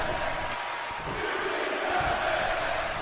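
Crowd cheering and chanting in a WWE 2K video game wrestling arena, a steady dense roar of noise with no pauses across the whole stretch.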